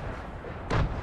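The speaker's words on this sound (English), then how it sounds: "Saw some explosions come flying out of the sideways." A single muffled explosion bursts in a video game, one short low boom that rises out of quiet background noise and fades within a second.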